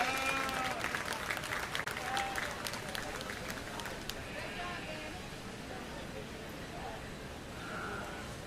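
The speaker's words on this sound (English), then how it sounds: "Let's give all these exhibitors a great big round of applause." Steady applause from a crowd at a 4-H/FFA sheep showmanship event, a dense wash of clapping that carries on throughout, with some background voices and sheep bleats mixed in.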